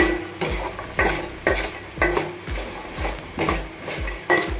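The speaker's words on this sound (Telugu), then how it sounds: "ఇవి కూడా బాగా వేయించుదాం సిమ్లో పెట్టి వేయించుకుంటే అన్నీ సమానంగా వేగుతాయండి" Mustard seeds and urad dal frying in a pan on low flame for gongura rice, a quiet sizzle broken by rhythmic metal spatula scrapes and clinks against the pan, about two strokes a second.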